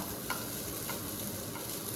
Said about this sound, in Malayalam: ഒരു മുറി നാളികേരം ചിരകി വെച്ചിരുന്നു. അത് നമ്മൾ ചൂടായ വെളിച്ചെണ്ണയിലേക്ക് ഇട്ട് കൊടുക്കാം